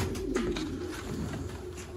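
Domestic fancy pigeons in Sialkot, Pakistan coo softly and repeatedly, low throaty calls close by over a faint background hum.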